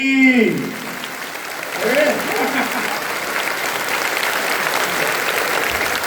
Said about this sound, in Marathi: माता वर्ग टाळी